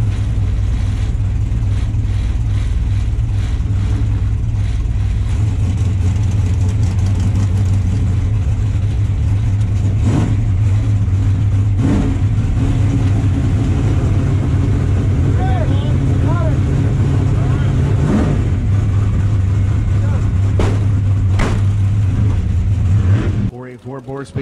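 The big black Chevrolet drag car's engine holds a loud, deep, steady roar close by, with several short surges, before cutting off abruptly at the end; an announcer talks over it throughout.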